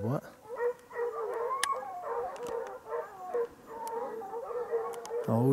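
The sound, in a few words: Ariégeois scent hounds baying while hunting hare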